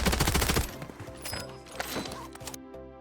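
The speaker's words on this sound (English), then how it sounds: "And we are already getting sniped as well from there." Gunfire in the video game Call of Duty Warzone, a loud burst of rapid shots at the start followed by scattered weaker shots and game effects with a musical tone near the end.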